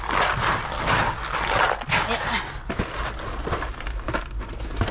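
Several large dogs kept by a household, barking and whimpering in short bursts among rustling and crinkling bags, with people chatting in the background.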